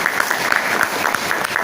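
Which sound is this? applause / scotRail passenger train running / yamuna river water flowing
applause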